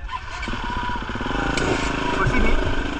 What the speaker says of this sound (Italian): Mi fai parcheggiare la moto più avanti